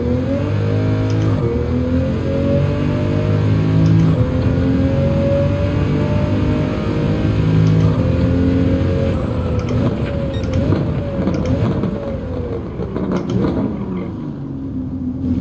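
Pagani Huayra with a Mercedes-AMG V12 in Gran Turismo 7, a loud steady engine drone revving up and down through rising and falling pitch sweeps, with no talk over it.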